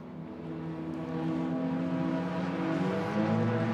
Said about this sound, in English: Oh, we got 1 car in the lane. I can hear that just beneath our position here in the tower.